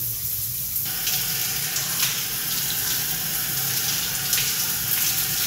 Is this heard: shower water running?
yes